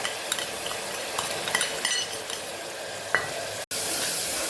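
A garlic masala paste for dum aloo sautés in a pan, with a spoon stirring and scraping through a steady sizzle and occasional sharp clinks.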